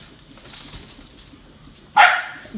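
A single sharp dog bark bursts out near the end, after a few seconds of quiet background rustling.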